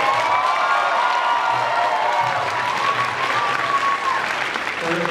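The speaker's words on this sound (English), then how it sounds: "let's give her a round of applause" A loud round of applause from a crowd at a live stage show, continuous clapping with some cheering and whistle-like tones, a voice starting up near the end.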